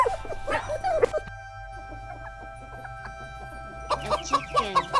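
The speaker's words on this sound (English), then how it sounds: "A chicken." A chicken makes a run of clucks and throaty calls at the start, then falls quiet. Another burst of rhythmic clucking comes near the end, close and fairly soft.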